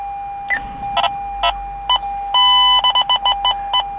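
A hardwired radar detector in a 2016 Lexus ES350 powers up with the ignition, giving a series of sharp electronic beeps, single chirps then a quick run of tones, close and clear over faint cabin hum.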